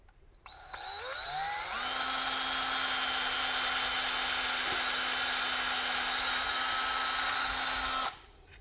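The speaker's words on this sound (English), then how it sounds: "I want to keep my drill fairly straight as I go in." A power drill bores a pilot hole into a curved wooden wine stave, its high whine ramping up quickly, holding a steady loud pitch for several seconds, then stopping abruptly.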